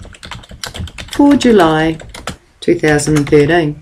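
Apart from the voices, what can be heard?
typing on a computer keyboard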